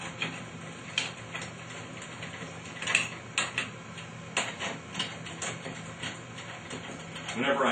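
Ratchet clicks in short bursts while bolts on a Corvair flywheel or pressure plate are tightened, close and crisp over a quiet hum.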